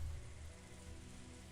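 Gentle rain sound effect from the visual novel Umineko no Naku Koro ni: a soft, even patter of rain on surfaces, steady and unbroken throughout, with no voices.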